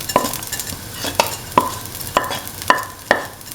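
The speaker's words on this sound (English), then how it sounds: "Now put in the rice flakes or beaten rice" Beaten rice flakes go into a pan with roasted cardamom, stirred in six crisp, evenly spaced scraping strokes against the pan over a faint sizzle, close up with no talk.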